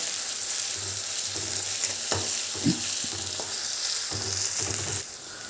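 Garlic-ginger paste and onion sauté in a pan of hot oil for green dal: a steady close sizzle broken by repeated spatula scrapes and taps, then a brief drop in level near the end.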